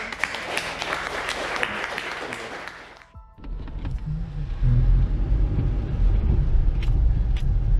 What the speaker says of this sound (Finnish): Aplodit vielä.